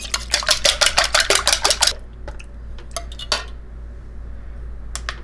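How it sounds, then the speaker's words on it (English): A whisk clinks rapidly against a bowl on a kitchen scale, a close, bright burst of metallic rattling for about two seconds, then a few isolated taps and clanks against a low steady hum. "Let me use my whisk a minute."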